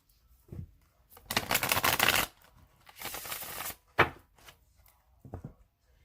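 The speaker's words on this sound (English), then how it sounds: "I'm going to shuffle it 3 more times." Tarot cards are shuffled in three bursts of riffling and flicking, close and clear, each followed by short taps and pauses, with no talk.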